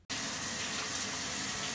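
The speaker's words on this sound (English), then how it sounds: "So I am filling it up with some water" Water pours into a paludarium tank in a loud, continuous gushing stream that starts abruptly and keeps flowing strongly to the end.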